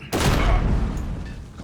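A sharp burst of gunfire with flaming rounds in the video game Modern Warfare 2019, one loud blast opening a short rattling volley that fades over about a second.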